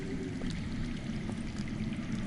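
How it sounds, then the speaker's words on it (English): Underground water in the Game of Thrones video game rushes in a steady, unbroken flow, a continuous pouring wash that holds an even level throughout with no voices. "That's water. I hear water. From underground."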